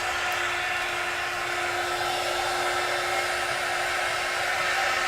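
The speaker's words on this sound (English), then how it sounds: "So I'm heating up my heat gun." Heat gun warming up for heat embossing on a papercraft spinner card, a steady loud whooshing fan roar with a constant hum, close and unbroken throughout.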